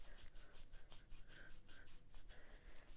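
A hand rubbing firmly along the forearm over the lung 7 acupressure point, giving a close, steady swishing friction sound in rhythmic strokes, with no talking.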